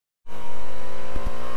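Bajaj Pulsar NS200 motorcycle, fitted with Apollo Alpha H1 tyres and carrying a rider and pillion, pulls off; a loud, close engine roar starts abruptly after a brief silence and holds steady, with no talking.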